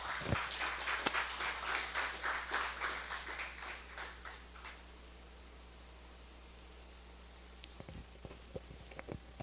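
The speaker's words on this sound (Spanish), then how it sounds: "Vamos a darle un fuerte aplauso al Señor." A church congregation claps during a sermon, first in a quick rhythmic burst of many hands, then thinning and fading out over several seconds into a quiet room with a few scattered knocks and soft noises, under a low steady hum.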